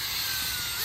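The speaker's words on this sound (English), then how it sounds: "So my Uncle Jay pulled out his drill and we kind of just beated them up like this" Power drill churning chunks of fire-roasted apples for apple butter in a copper pot, a steady loud whirring grind with no break throughout.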